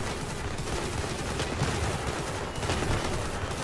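Vehicle-mounted weapons fire continuously in the Crossout vehicle combat game, a dense, loud, unbroken barrage of gunfire with faint rhythmic pulses, heard alone without speech.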